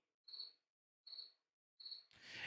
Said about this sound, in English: Crickets are the sound you hear in the background.